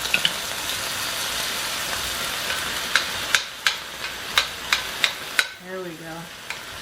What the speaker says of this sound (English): She smells the ground beef cooking.